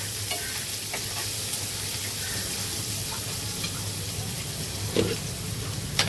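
Onions frying in a pan for a spicy ivy gourd curry, with a dense, constant sizzle and occasional stirring scrapes close by.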